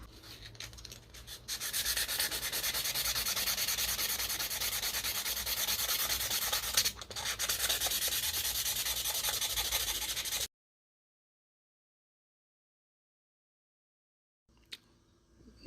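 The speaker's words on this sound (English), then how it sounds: "I'm just going to take some sandpaper and start polishing this up" Steady abrasive rubbing as 220 grit sandpaper is worked over a steel blade for a Saami style knife, continuous close strokes for about ten seconds, then silence with a brief scrape near the end.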